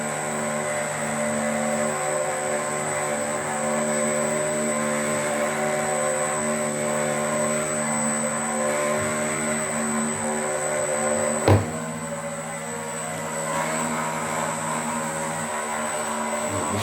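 An RC patrol boat's electric motor runs under throttle while the model sits in a bath, a steady high whine with a buzzing tone, one brief knock partway through, and no voices.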